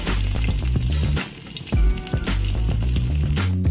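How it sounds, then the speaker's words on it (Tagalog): Onions sauté in hot olive oil in a pan, a steady loud sizzle and crackle from close by with some stirring. No one speaks. "So mainit na siya, and then igigisa na muna natin yung ating sibuyas."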